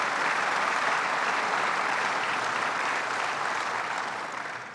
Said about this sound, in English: And we can certainly applaud for that.